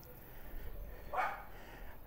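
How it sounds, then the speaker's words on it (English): On a neighborhood street in Barrio Fundeci, León, Nicaragua, a dog gives a single short bark at moderate distance against quiet outdoor background noise. "Oh, we have a cute doggy here."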